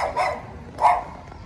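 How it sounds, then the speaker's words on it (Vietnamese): A dog gives two short barks about half a second apart, close and moderately loud, during a garden stroll near Ha Long, with nothing else heard. "Em chó."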